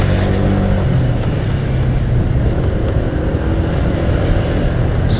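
Road traffic near the Swiss Cottage gyratory in London during roadworks, a dense, continuous rumble of passing cars and engines that stays steady and fairly loud throughout.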